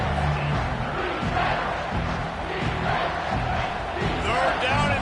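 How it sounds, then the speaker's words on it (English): Stadium crowd roaring continuously in a college football video game, Clemson at NC State, a dense loud wall of cheering and yells throughout. "this crowd is turning it up a notch"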